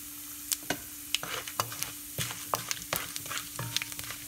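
Split chana dal, split urad dal and a few cumin seeds sizzle and crackle in hot oil, with scattered sharp pops and stirring scrapes over a steady faint hiss, close and fairly quiet.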